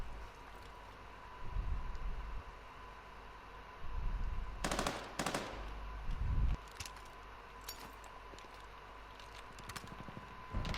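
Gunfire in the shooter game Call of Duty Vanguard, with several short bursts of automatic fire and louder low booms over a steady background hum, fairly quiet overall with no talk.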